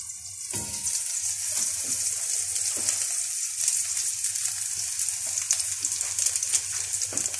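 Sliced onion sautéing in a pan with eggs simmering nearby during Moroccan home cooking, giving a steady close sizzle broken by brief clinks and stirring scrapes, with no voices.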